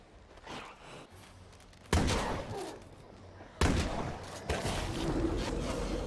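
Two loud, punchy shotgun blasts ring out in State of Decay 2, a couple of seconds apart, each with a booming decay, over a steady background of game ambience.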